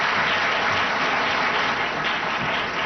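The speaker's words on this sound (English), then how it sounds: "A warm, big round of applause for His Excellency." A summit audience at the 2026 Africa Forward opening session in Kenya applauds in a dense, even wash of clapping that holds loud and steady for a few seconds.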